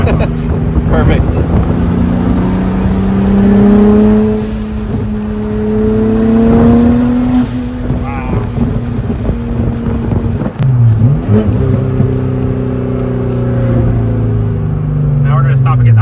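A boosted NSX engine revs loudly up and down for a long stretch, its pitch climbing and falling, with wind buffeting in the background.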